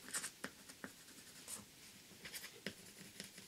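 A marker or pencil scratches quietly over thick paper, colouring fish scales in short, irregular strokes with soft pauses between them, close and faint.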